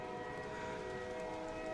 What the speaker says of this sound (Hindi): ट्रेन की सीटी बज गई थी।